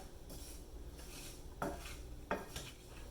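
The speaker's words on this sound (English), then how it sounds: "I'm just stirring it all together a little bit." A spoon stirring sugar and wineberries in a pot, quiet scraping strokes against the metal with a few sharper clinks, a soft sizzle underneath, no voices.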